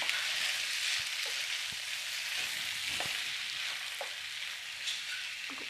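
Kadala roast being stirred in a pan on the stove: a steady hiss of sizzling fills the background while a spoon scrapes and taps the pan in short strokes every second or so, close and moderately quiet.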